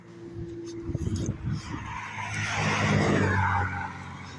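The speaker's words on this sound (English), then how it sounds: "That was a sedan that was sounding like a sports car." A sedan engine with a sporty tone revs and roars past, rising to a loud swelling rush with a tire-squeal edge after a rumbling start, mixed with a voice early on.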